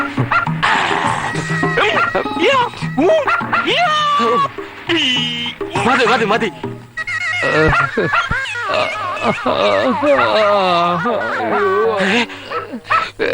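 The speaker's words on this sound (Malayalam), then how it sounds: "പട്ടി പട്ടി" Dog barking, yipping and whimpering in a Malayalam comedy film, rising and falling whines mixed with short barks throughout, close and loud, with a person speaking briefly over it.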